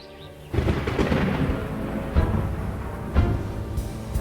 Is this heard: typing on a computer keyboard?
no